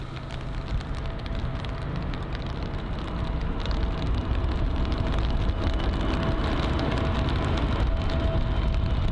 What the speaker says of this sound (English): it is indeed raining